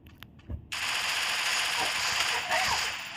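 Sniper rifle gunfire in the video game Free Fire: a sharp shot opens into a dense, sustained burst of crackling game gunfire and effects lasting a few seconds.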